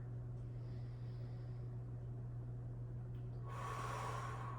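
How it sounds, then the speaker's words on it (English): A deep breath taken during a core conditioning exercise class: a soft, airy rush of breath near the end, sitting over a steady low electrical hum and otherwise quiet room. "Let's go one more deep breath here."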